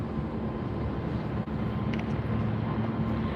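Boeing 747 jet taking off at Los Angeles International Airport, a steady broad roar of engines sustained throughout, fairly close and loud with no talk over it.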